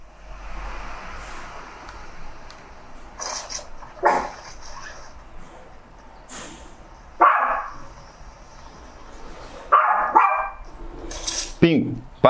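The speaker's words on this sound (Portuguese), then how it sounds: "para de latir" A dog barks in short separate bursts of one or two barks, fairly close, with quiet gaps between them and soft background sound from a Fortnite mobile game.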